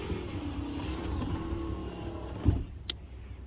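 A 1976 Jaguar XJ6 Series 2 power window motor, run on the bench from a power pack with its polarity swapped, whirs steadily and close for about two and a half seconds, then stops with a brief click.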